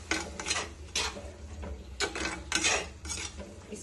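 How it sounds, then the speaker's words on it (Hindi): A spoon stirs boiled chickpeas into chole masala in a pan, giving repeated close scraping and clinking strokes over a soft background sizzle, with no talking. "अब यहाँ पे मैं ये छोले डाल रही हूँ, इसे अच्छे से मिलाएंगे।"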